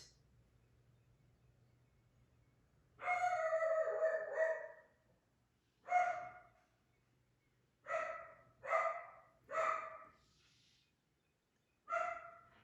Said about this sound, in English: You probably hear my doggy in the background.